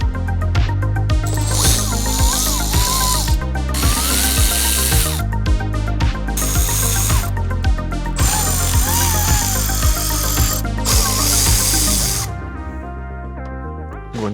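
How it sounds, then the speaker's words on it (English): A power tool with a T27 bit backing out Torx screws during a turn signal kit install on a Polaris Xpedition, loud close whirring in repeated bursts over a steady rhythmic background, with no talk. "We're going to now remove these torque screws."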